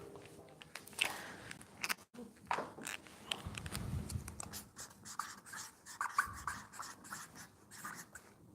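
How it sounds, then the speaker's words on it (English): Pen writing on paper, close and quiet scratching strokes in short irregular bursts, with faint rubbing and soft background noise and no talking. "Just get a pen and a paper, draw the circle of your life."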